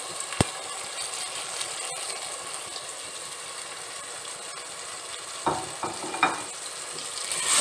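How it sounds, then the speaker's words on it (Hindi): Spices sizzling in a pan with tomatoes and green chili, a steady close frying hiss broken by a sharp tap and a few stirring scrapes toward the end. "और मसाले को भून लेंगे।"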